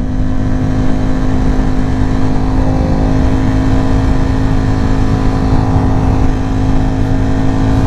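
Ducati Panigale V4 motorcycle engine running loud and steady while riding, a continuous close roar with a strong low hum and no talk.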